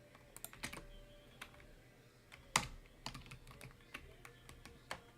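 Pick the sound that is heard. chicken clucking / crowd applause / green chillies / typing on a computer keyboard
typing on a computer keyboard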